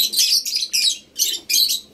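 African lovebirds chirp in five loud, close, buzzy bursts separated by short pauses, with no voices.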